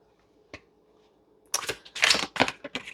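Oracle cards being shuffled by hand: a single soft snap, then a burst of rapid papery riffling and flicking, close and crisp in an otherwise quiet room.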